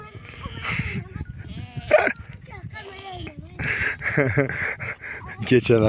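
Several goats bleat in wavering cries close by, overlapping with people talking and some panting or barking-like noises in the background.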